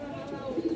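A pair of Lahori pigeons coos softly up close, a few short low murmurs rising near the end over quiet background noise.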